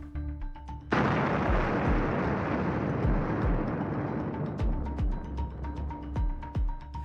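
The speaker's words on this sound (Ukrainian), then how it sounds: "А ось так детонує російська самохідна артилерійська установка на Краматорському напрямку." A Russian self-propelled artillery vehicle detonates in a heavy sudden burst near Kramatorsk, followed by a long roaring rumble and several sharp secondary blasts and pops, heard from a distance.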